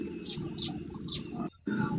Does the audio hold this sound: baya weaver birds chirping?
yes